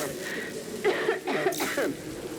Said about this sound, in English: The scrapper here even has a cough